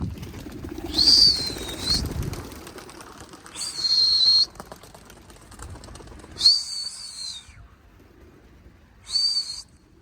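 Homing pigeons released to fly over the loft, their wings giving four separate bursts of flapping and airy whistling, each lasting about a second, close by with quieter gaps between them.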